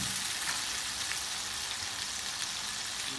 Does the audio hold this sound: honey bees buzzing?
no